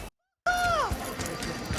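A cat in Cyberpunk 2077 gives a single short, clear meow right after a moment of silence, with quiet background ambience and faint chatter behind it.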